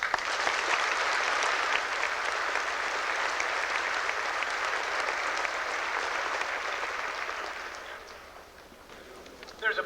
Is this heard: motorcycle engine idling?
no